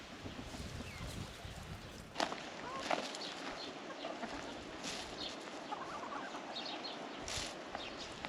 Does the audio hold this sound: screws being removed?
no